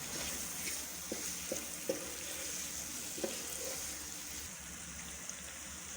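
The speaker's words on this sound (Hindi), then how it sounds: "अब चिकन को इन तमाम मसालों के साथ अच्छी तरह से भून लेंगे।" Chicken cooks with spices in a pan, giving a steady, soft sizzle and fry with a few faint stirring knocks and scrapes, and no talk over it.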